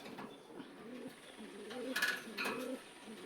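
A breeding pair of lark pigeons, the hen in molt, coo softly up close in a loft, low throaty calls repeating at an even pace with faint flutters and chirps.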